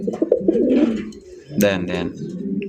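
A male tiger-colour pigeon coos in a short, close, rolling call, with a couple of distinct coos near the end and a faint voice in the background.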